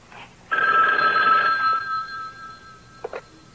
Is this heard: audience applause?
no